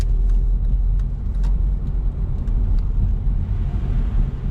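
A manual transmission car held in third gear as the driver eases on the gas, a continuous low engine and road rumble heard from inside the cabin, steady and fairly loud, with a few faint clicks.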